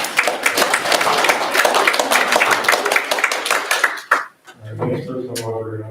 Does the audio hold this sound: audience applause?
yes